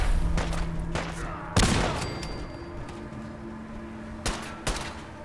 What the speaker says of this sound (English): Who are you shooting at, bro?